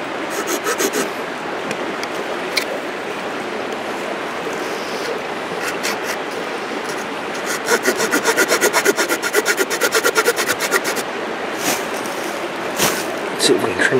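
Wood being trimmed by hand at an Adirondack camp, with a steady run of rough rasping strokes that quicken into a fast back-and-forth burst midway, heard up close against faint outdoor background.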